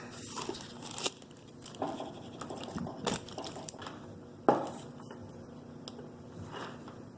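A knife chips and scrapes mineral scale off a part of a Vicks humidifier. Scattered crunchy scrapes and sharp ticks come at irregular intervals, with one louder crack midway, all close and fairly quiet.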